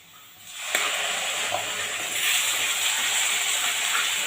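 Masala paste of black masala and coriander powder with ground wet spice paste sizzles in a pan for chicken masala, a steady bright frying hiss that starts abruptly and keeps going, close and fairly loud, with no talking.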